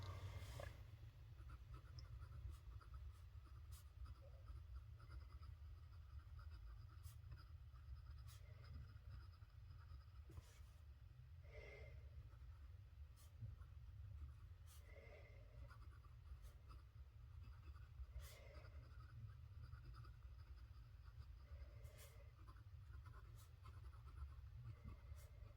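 A medium nib pen writing on Amazon Basics paper, faint scratchy strokes and small ticks in an irregular rhythm over a low steady background hum.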